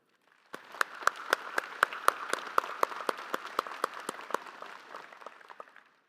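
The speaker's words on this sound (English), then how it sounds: "Let's show our appreciation with a round of applause" Applause from a crowd at a university commencement ceremony, with sharp individual claps standing out over a steady patter; it starts abruptly, holds, then fades out.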